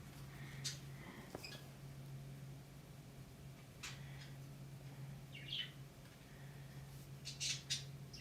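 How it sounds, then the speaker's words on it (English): Birds waking up outside at early morning, heard faint and distant: scattered short squawks and chirps over a low steady indoor hum. "Get into that part of the day where the birds decide to properly wake up and start being noisy"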